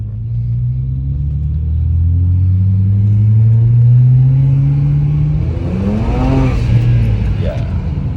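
A BMW N54 turbocharged engine, newly fixed after a seized wastegate actuator and replaced vacuum lines, rumbles loudly up close as it revs up and settles back, a deep, steady drone that swells in pitch.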